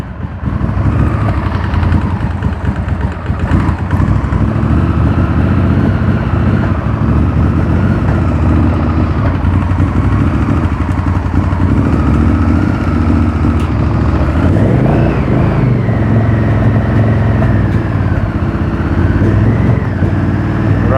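An abandoned Honda VTR 1000 Firestorm motorcycle engine runs roughly on what may be old petrol, a loud, close, continuous uneven idle whose note briefly rises and falls near the end.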